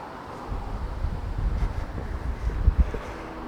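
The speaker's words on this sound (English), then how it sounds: "It's very blustery here." Blustery outdoor wind buffets the microphone with low rumbling gusts that swell and fade, steady and fairly close, with no voices.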